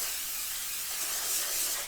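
A continuous, close hiss of cooking spray from an aerosol can misting into a mixing bowl, steady and fairly loud for about two seconds before cutting off, with no talking.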